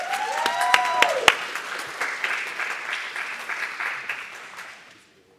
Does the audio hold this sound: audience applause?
yes